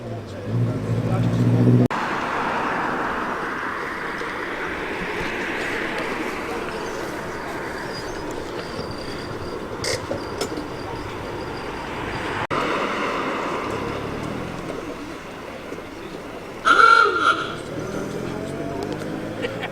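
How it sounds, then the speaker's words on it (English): Classic Rolls-Royce at a Cars & Caffeine meet at Combermere pulls away with a steady engine note that swells and fades outdoors. Other traffic and crowd chatter mix in, and a brief louder burst near the end. "The Rolls-Royce has just fired up its motor."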